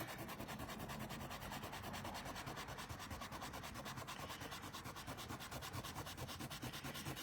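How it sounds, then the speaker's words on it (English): A sand eraser rubs on paper in a quick, steady back-and-forth scrubbing. The sound is faint and continuous and is heard alone. "Sand eraser to the rescue, I guess."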